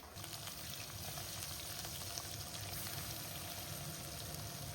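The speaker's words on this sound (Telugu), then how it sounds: "ఇప్పుడు ఈ చేపల్ని ఫస్ట్ ఫ్రై చేసుకుందాము." Fish frying in hot mustard oil, a steady dense sizzle with crackling spits running throughout at close range, no voices.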